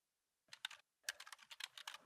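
Quick keystrokes on a computer keyboard, a short burst of taps, a brief pause, then a longer run of close, crisp clicks typed out with no voices.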